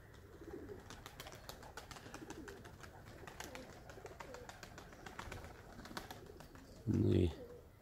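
Baku pigeons, a white flock kept in an aviary loft, coo softly in the background, with a loud burst of wing flapping near the end.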